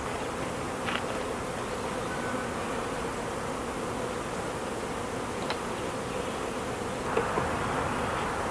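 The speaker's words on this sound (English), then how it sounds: "Too many bees." Honeybees buzz around an open beehive during an inspection for Varroa mites, a dense constant hum of many wings close by, with a few louder passes of single bees near the ear.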